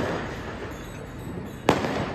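Firecrackers burst during Diwali celebrations under a steady hiss of distant crackling, with one sharp, loud bang standing out near the end.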